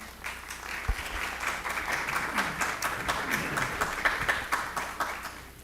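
Audience at a city council meeting applauds, a sustained round of clapping from the public gallery with distinct individual claps audible throughout, moderately loud and unbroken.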